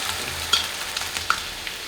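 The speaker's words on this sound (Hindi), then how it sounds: "और अब हम एक ही बार इस घोल को डाल देते हैं।" Batter is poured into a light, hot oil tempering for crispy palak vadi, setting off a steady close sizzle and crackle with small pops and stirring, and no talking.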